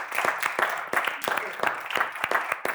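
An audience applauds for César and Víctor, with a few people clapping in a sparse, regular rhythm of distinct claps over nearly three seconds rather than a full ovation.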